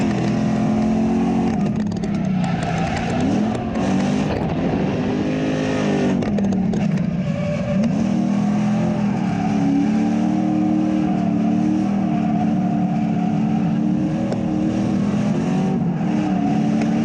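Stock Lincoln Mark 8 V8, freshened with a tune and 410 gears, revving hard in repeated rising and falling pulls, loud and close, with a steady rumbling idle between bursts.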